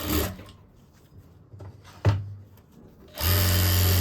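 A sewing machine stitches a sleeve-cut blouse seam in two loud whirring runs, one brief at the start and one longer at the end, separated by a quiet pause with small handling knocks.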